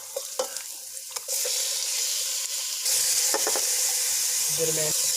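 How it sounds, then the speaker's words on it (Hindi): Loud, steady sizzling of chicken frying in a hot pan over medium heat, with occasional stirring scrapes and clatter close by. "दरमियानी आंच पे हम चिकन को फ्राई कर लेते हैं।"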